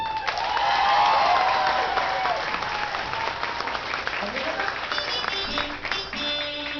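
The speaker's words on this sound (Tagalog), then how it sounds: "palakpakan natin" An audience at a Filipino comedy show claps loudly, dense applause with some cheering and whoops mixed in, tapering slightly toward the end while voices murmur underneath.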